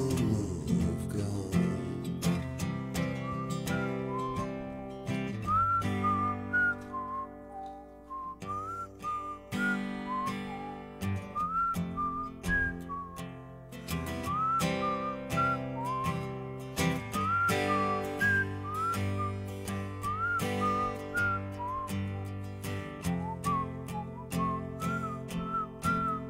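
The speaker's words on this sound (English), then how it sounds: "My whistling's little off." A person whistles a melodic tune over backing music, the whistled notes wavering slightly and falling in and out of pitch.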